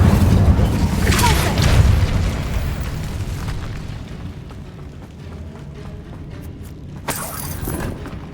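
An Incendio fire spell is cast in Hogwarts Legacy. A loud, deep, rumbling burst of flame roars and slowly fades over several seconds, and a sharp crack comes near the end.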